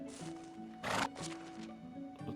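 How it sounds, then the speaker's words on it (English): A horse in the video game Medieval Dynasty whinnies once, a short faint neigh amid quiet ambient game sounds and light background music. "call our horse over."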